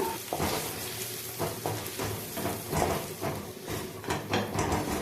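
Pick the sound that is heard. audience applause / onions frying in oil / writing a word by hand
onions frying in oil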